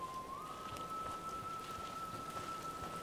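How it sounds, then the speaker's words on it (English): Steady rain in the video game Fallout 4 patters and hisses softly, with a thin steady electronic tone running over it. "And it sucks because it's raining."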